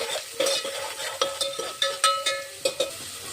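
Onions being stirred as they fry in a pan, with repeated scraping clinks of the utensil against metal at an uneven, rapid rhythm over a light sizzle, close and clear with no talking.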